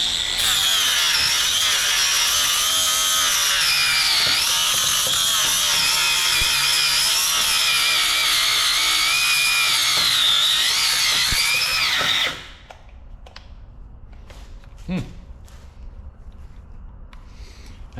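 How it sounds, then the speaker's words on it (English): A power grinder shrieks loudly and continuously while grinding down welds on a homemade tractor loader, its pitch wavering as it bites the metal, then it cuts off abruptly into quiet shop noise with a single clunk. "now we just gotta grind down these welds"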